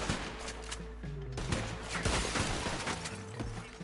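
Dense gunfire in the Red Dead Redemption 2 video game at Blackwater, with overlapping rifle and pistol shots crackling continuously in a loud, chaotic fusillade with no pause.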